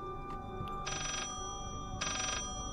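Telephone ringing inside the horror video game Layers of Fear, two electronic ring bursts about a second apart over a steady ambient game drone, no talk.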